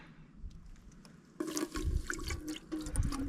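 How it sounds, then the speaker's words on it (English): Water pours into a camping pot while pizza dough is being mixed at a campsite, beginning as faint trickles and then becoming a steady, nearby splashing stream. "I'm going to put in about 3/4 of a cup of water."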